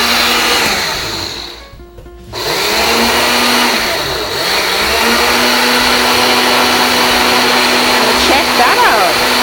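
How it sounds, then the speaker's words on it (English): A standard blender grinds toasted quinoa into flour with a loud, steady whirring roar that briefly cuts out and then restarts, running continuously up close. "and then we just add it to our blender."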